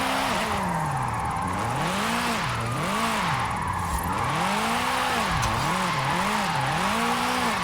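1982 Volkswagen diesel pickup with an AWD drift tune, pulling hard in second gear, engine note rising and falling in repeated swoops as it revs, loud and close with tire noise underneath and no talk.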